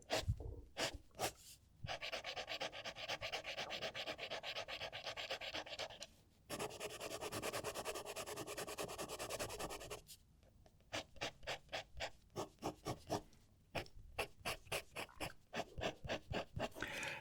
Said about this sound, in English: Again, another really loud nib.